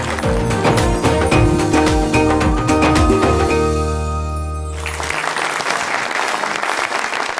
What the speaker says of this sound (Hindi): ठीक है जनाब, जोरदार तालियां बजाएं।